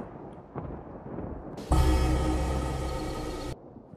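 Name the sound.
cartoon storm with thunder and rain sound effect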